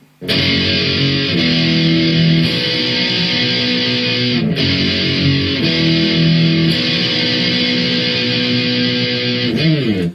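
Distorted electric guitar plays the ending of a song: loud, dense power chords strummed steadily for about ten seconds with a few chord changes, then a final chord cut off, no voices.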